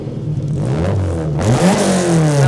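Honda Civic Type R FL5 engine revved from idle, a loud close rising roar that climbs in pitch over a couple of seconds, no talk.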